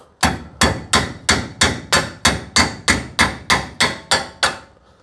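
A hammer repeatedly strikes a Corvette brake caliper to knock it loose: about thirteen sharp, loud metallic blows at a steady, even rhythm, each ringing briefly before the next, with no talk.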